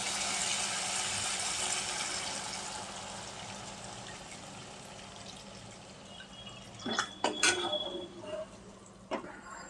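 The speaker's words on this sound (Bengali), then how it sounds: "এবার আমি পরিমাণ মতো জল দিয়ে দিচ্ছি।" Water pours into a pan of gondhoraj katla fish curry as a steady, fairly soft rushing stream that fades out, followed by a few light knocks and clinks.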